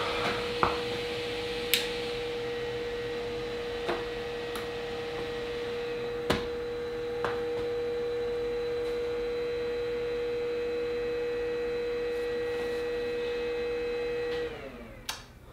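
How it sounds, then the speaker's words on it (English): The cooling fan of a Creality CR-M4 3D printer runs with a steady, close hum and a whine. A few faint clicks and knocks sound early on, and the fan spins down and stops near the end. "The cooling fan on the M4 is now the loudest thing in this room"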